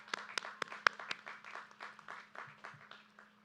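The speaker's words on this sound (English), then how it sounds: "Let's give a clap for that." A small audience claps for 2021 scholarship winners, a sparse run of separate hand claps that starts with a few sharp, close claps and thins into softer, scattered clapping.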